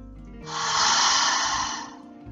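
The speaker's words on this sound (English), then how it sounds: "let your breath go." A deep breath is let out slowly as a calming exercise, one long, close, airy exhale that swells and then fades over about a second and a half, with no talk.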